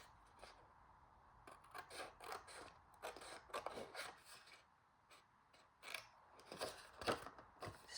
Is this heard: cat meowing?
no